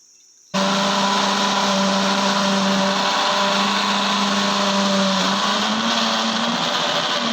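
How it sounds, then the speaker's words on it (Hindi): An electric blender blends mango pulp in a jar, starting abruptly after a brief silence and running as a loud, steady, close-up whir with no talk. "तो अब हम इसे जार में ब्लेंड करेंगे"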